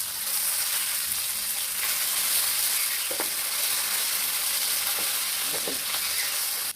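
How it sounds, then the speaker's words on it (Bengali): Fish frying until crisp in hot oil, a dense, continuous close sizzle with a few light clicks of the pan or spatula, steady from start to finish. "মাছগুলো দিয়ে দিই, মশমশা করে ভাজবো"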